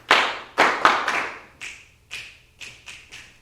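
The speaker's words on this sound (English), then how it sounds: "we're going to do a clap first, then a snap" Group rhythmic clapping and finger snapping at a vocal workshop, a series of sharp, fairly close percussive hits in an uneven beat, the early ones fuller and louder, the later ones lighter and snappier.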